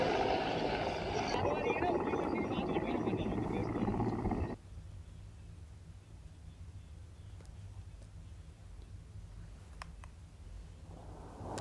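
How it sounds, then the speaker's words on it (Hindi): Indian Air Force helicopter fighting a hill fire near the Eklingarh cantonment in Udaipur, Rajasthan: a loud, dense rotor roar for the first few seconds, then dropping to a steady low drone with a voice speaking over it. "और इंडियन एयरफोर्स का हेलीकॉप्टर आप देख सकते हैं"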